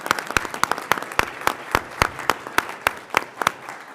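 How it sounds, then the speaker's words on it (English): At a Western Michigan University Board of Trustees meeting, a modest room of attendees applauds two newly welcomed trustees. Individual claps ring out crisply and fairly regularly over a softer bed of scattered clapping, steady throughout. "I just want to welcome them again with another big round of applause."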